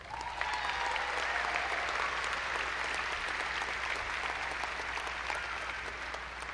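A graduation crowd at a fall university commencement gives graduates a round of applause, a fairly distant, steady, broad clapping from a large audience that continues evenly throughout.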